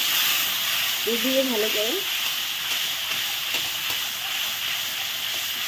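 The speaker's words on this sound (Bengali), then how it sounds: "আমি এখন প্রথমে দিব টমেটো" Tomato goes into a hot pan of fried cumin and chilli, raising a steady broad sizzle that runs throughout beneath a voice speaking Bengali.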